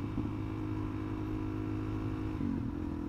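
A Suzuki DRZ 400sm motorcycle engine drones steadily up close, its pitch shifting briefly near the end as it downshifts.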